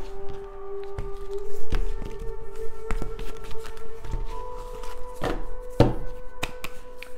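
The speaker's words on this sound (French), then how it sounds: "alors là, on va mélanger les cartes" Tarot cards being shuffled by hand, heard as an irregular run of soft taps, slaps and riffles over a steady humming tonal background, with a denser flurry near the end. No talking.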